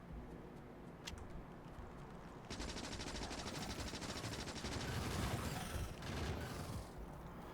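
Automated turrets open fire on attacking enemies in the Factorio video game, a dense stream of rapid gunfire that starts abruptly, holds loud and steady for several seconds, then thins out.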